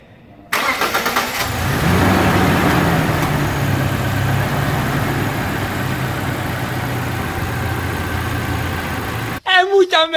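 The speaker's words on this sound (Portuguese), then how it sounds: "esse ronco do motor a gasolina de alta cilindrada" A gasoline Toyota Hilux flex 2.7 pickup engine cranks and starts just after an oil change, then settles into a steady, loud, close idle for several seconds before a voice speaks near the end.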